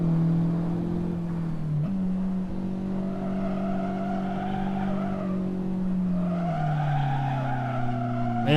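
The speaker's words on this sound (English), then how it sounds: "Man, that braking, like sliding out." Race car under hard braking on the track at CMP, a loud continuous tire squeal as the car slides out, steady and close, its pitch shifting and dropping near the end, with engine noise underneath.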